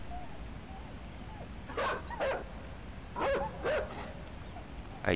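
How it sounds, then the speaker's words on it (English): A dog in the video game Inside barks in short paired bursts, two quick barks, then a pause, then two more and a final clipped yelp, moderately close over a steady low background. "Oh my goodness, that dog is extremely fast."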